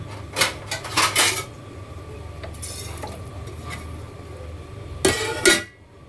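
Metal clatter of a lid being set on a pot of milk on a gas stove, a few sharp clinks near the start and again near the end over a low steady kitchen hum.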